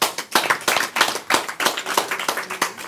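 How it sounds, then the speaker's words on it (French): A small group claps steadily, irregular and fairly close, a brief round of applause with no voices. "je voudrais quand même vous les applaudissiez"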